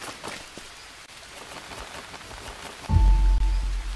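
Rain patters steadily on the ground of a primeval jungle forest, a soft continuous hiss, until a loud low rumble and crackle cut in near the end.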